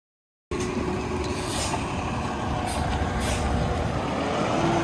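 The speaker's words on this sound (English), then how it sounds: "First concrete truck over here at the shop." A concrete truck arrives at a shop building site, with its diesel engine rumbling steadily and close, punctuated by a few sharp hissing air-brake bursts over the constant engine drone.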